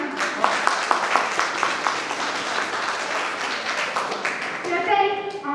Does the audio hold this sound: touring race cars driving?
no